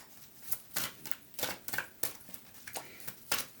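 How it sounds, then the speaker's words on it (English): Tarot cards are being shuffled by hand in a steady run of soft riffling bursts, about a dozen in quick rhythm, close and fairly clear, with no voices over them. "we're going to keep shuffling"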